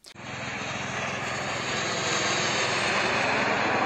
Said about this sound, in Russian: Главная его отличительная особенность – то, что у него реактивный двигатель.